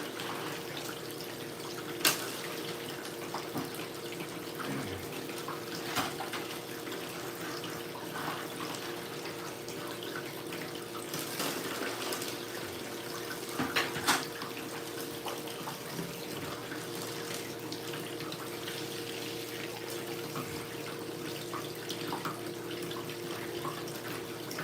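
Water runs steadily during gold prospecting, a continuous trickling flow with a few sharper splashes and clanks scattered through it, and no talking.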